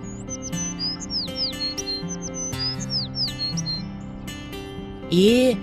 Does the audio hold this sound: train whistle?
no